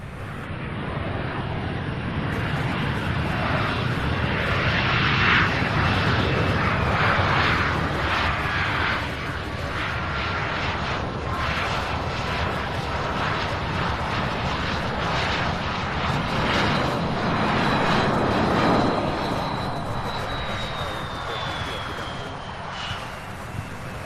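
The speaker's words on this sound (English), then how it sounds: "nice landing for the CRJ" A CRJ regional jet landing at Louisville International Airport, its engine roar loud and sustained for over twenty seconds with a rising and falling whine and wind buffeting the microphone.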